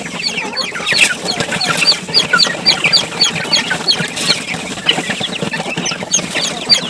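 Native chickens in a net enclosure cluck busily and close by, with many overlapping short calls forming a lively, continuous barnyard chatter throughout.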